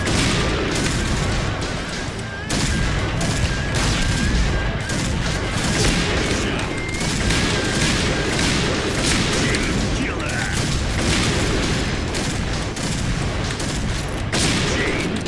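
Rapid sniper rifle fire from a Barrett and a Kar98k in the shooter game Point Blank, as loud, continuous gunfire and booms, with players chattering under the battle noise.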